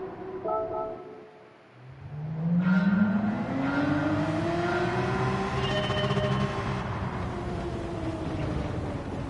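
A Porsche race car engine in Gran Turismo 7 revs up and holds a rising, droning note as it accelerates, loud and close, with no talking over it.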